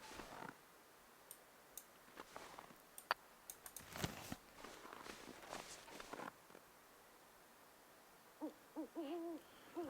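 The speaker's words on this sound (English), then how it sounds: "The owl." An owl hoots repeatedly in the wintry wilderness of the survival video game The Long Dark, a soft wavering call that comes in quick bursts near the end, after scattered clicks and footstep-like crunches.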